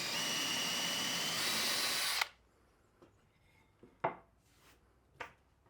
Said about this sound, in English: I drill all the holes for the threaded inserts